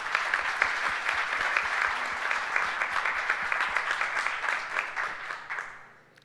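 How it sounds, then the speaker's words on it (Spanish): Audience at a panel event breaks into sustained applause, many hands clapping in a steady dense wash that holds for several seconds before fading out at the end. "por favor acompáñenme con un aplauso"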